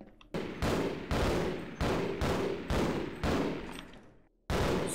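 Seven loud, evenly spaced gunshots from a weapon in the video game Half-Life, each sharp crack trailing into a short echo, with a brief pause before the last shot.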